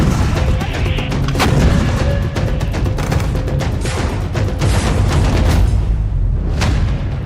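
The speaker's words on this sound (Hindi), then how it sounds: "यहां लगातार धमाके हो रहे हैं" Repeated explosions and artillery-like booms at the Israel-Lebanon border during wartime, a dense run of sharp blasts and rumbling over a continuous loud background roar, with no speech.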